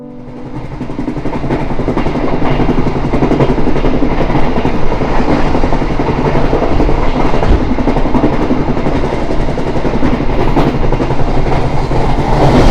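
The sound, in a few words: Pandalungan train running, heard inside the carriage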